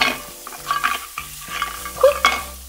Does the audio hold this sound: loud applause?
no